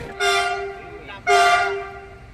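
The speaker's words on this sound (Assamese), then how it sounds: "ট্ৰেইন নহয়, ইঞ্জিনটোহে আহিছে।" A lone railway locomotive engine, running without carriages, passes a level crossing near Kaki, Hojai, sounding two long, loud, close horn blasts separated by a brief pause.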